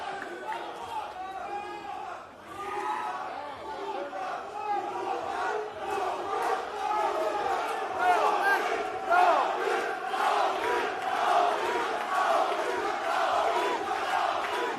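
A crowd cheers for boxer Labinot Xhoxhaj at a Universum boxing night, with a dense roar of voices and rhythmic chanting that swells and stays loud throughout.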